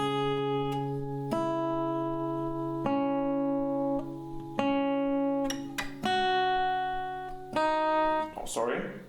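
Acoustic guitar plays a slow melody over bass notes, single plucked notes ringing out one after another at an unhurried pace, close and clear, ending in a brief scuffle of handling noise.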